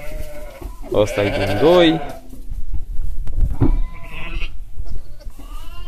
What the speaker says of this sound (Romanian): Astea sunt ultimele oi care le-am fătat